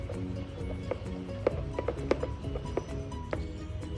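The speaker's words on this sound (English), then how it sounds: "I give it a good mix" Potato and red lentil fritter batter being stirred in a bowl after chopped coriander leaves and rice flour go in, giving a thick batter; close, steady scraping and knocking with several sharper taps, no talking.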